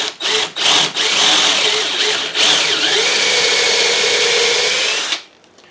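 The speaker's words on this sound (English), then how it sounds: "drill down in the top here," Power drill driving a screw down into the top of a wooden porch post, a few short revving bursts followed by a long loud steady whine that winds down and stops.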